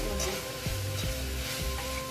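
Taro frying in a pan with salt: a steady hiss of sizzling oil running throughout, broken by regular soft scraping strokes of a spatula stirring the pieces.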